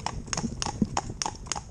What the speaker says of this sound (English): It's a big, powerful horse